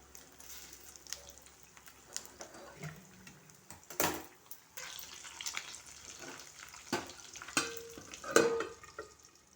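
Fish fries in a pan as pieces are turned, giving a soft sizzle broken by sharp scraping and stirring knocks, fairly close and moderately quiet, with a faint voice now and then in the background.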